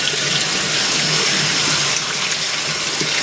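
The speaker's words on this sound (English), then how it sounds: "We're going to get some hot water here. A hot water tap." Hot water runs steadily from a tap to flush out a corroded Compaq Portable keyboard, a continuous broadband splashing gush at close range, with no talking.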